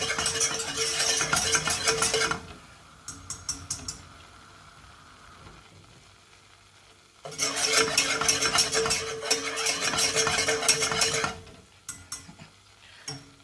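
A flour roux is stirred in a pan, giving two long stretches of scraping, swishing strokes separated by a quieter gap with a few light clinks; close and moderately loud, with no talking.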